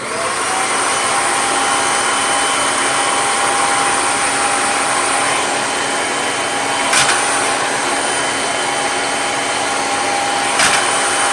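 A Kirby G6 vacuum cleaner runs steadily with its surface nozzle attached, a loud continuous whine and airflow rush with a couple of brief bumps as the nozzle is handled.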